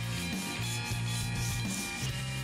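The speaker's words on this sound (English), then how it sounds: "sanding the top was a bit difficult and meant a lot of fiddly handwork" Hand sanding on the wooden body of a toothing plane gives a steady, close, rhythmic rubbing scratch of repeated strokes, continuous and fairly quiet with no voices.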